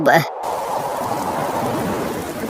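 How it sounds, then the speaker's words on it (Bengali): Steady rain hisses continuously, even and close, after a brief voice at the very start. "এই বৃষ্টি যে কখন থামবে কে জানে"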